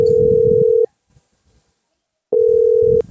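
A telephone tone sounds while a call is being placed: a loud, steady electronic beep lasting under a second, a pause of near silence, then a second identical beep.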